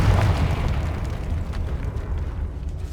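A Confringo fire spell detonates in Hogwarts Legacy inside a decaying catacomb, a loud rumbling blast that booms at the start and then holds as a sustained low roar with no speech.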